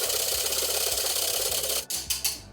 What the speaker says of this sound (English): So I'm just gonna whisk this one, really by hand.